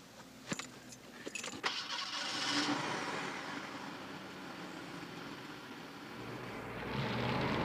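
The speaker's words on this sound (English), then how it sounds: "would you mind terribly starting the car?" A car started up close by: keys jingle with a few sharp clicks, then the engine cranks, catches and settles into a steady, even idle.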